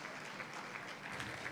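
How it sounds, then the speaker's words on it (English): Quiet, distant audience applause at a religions conference, a dense even patter of many hands clapping for a speaker, with no voices over it. "May I request a huge round of applause for our Dr. Shoaib Sadal"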